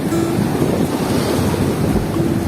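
Sea waves wash in on a rising high tide near Manori, a steady near roar of surf mixed with wind buffeting the microphone.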